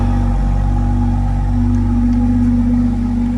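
A BMW 440i M Sport with an M Performance exhaust, running on a cold start in Eco Pro mode, idles loudly up close and then takes a gentle, brief rev before settling back into a deep, steady hum.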